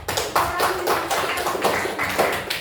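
Classroom applause from students after a presentation, a dense, steady clatter of many hands clapping together that runs for a few seconds without talk.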